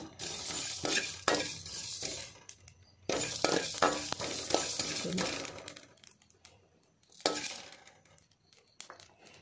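Coriander and spices dry-roasting in a pan, heard as intermittent scraping, stirring and clinking bursts with soft rustling in between, close by.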